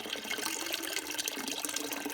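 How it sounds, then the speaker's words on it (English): Water pours steadily into a canning pot over filled salsa jars to cover them, a continuous close splashing rush with no voices. "Now I'm going to put enough water in here to just cover these."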